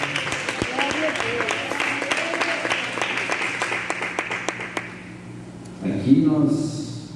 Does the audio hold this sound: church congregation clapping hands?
yes